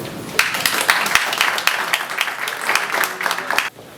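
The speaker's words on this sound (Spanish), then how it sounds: "Recibamos por favor con un fuerte y afectuoso aplauso a Rolf Tiede." At a Passivhaus seminar in Temuco, the audience gives a lively round of applause. The clapping is dense and sustained, with sharp individual claps standing out, and it stops abruptly just before the end.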